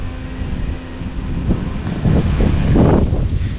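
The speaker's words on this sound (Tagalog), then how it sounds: "lakas ng hangin eh" Steady wind buffets the microphone in a continuous low rumble, growing stronger in gusts toward the end, outdoors where orchids and vegetables are grown.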